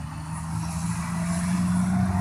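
A truck rumbles past on a city street in Quebec, a steady low engine drone with a humming tone that swells slightly louder as it approaches, with no voices.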